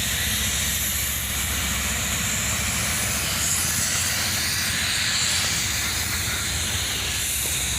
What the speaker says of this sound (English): listen to how much air that second locomotive is blowing out